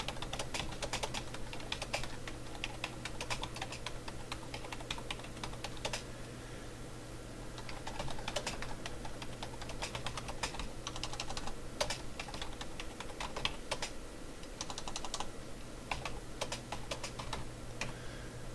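Rapid, continuous keystrokes on a computer keyboard as test text is typed into a message form, an even run of close clicks throughout with no talking.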